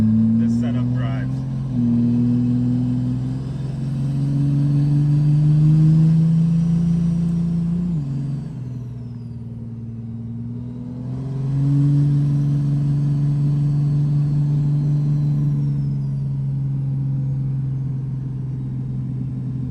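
A 3rd-gen Cummins diesel truck with big compound turbos driving, its engine droning loud and close, the pitch climbing and easing as it accelerates, briefly backs off and pulls again.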